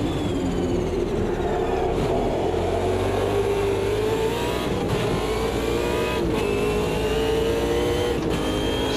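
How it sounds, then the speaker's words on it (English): A V8 race car engine in the racing game Automobilista 2 roars loudly and continuously downhill, a dense steady drone with rising pitch and brief shifts, alone with no talking. "So the mighty V8 punches its way down the hill."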